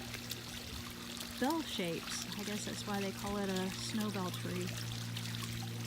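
Water from a millstone fountain in a garden trickling and pouring steadily beneath a voice as he talks throughout.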